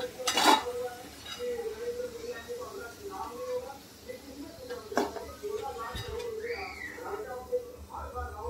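Homemade crispy French fries lifted out of a frying pan, with a few sharp clinks and light scraping against the pan over a low background, while a person talks throughout.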